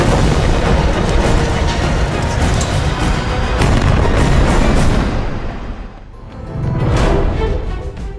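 Israeli army bombardment of the house of Hamas chief Ismail Haniyeh, heard as a loud, continuous roar of blasts and rumbling debris that briefly drops away before another heavy burst rises.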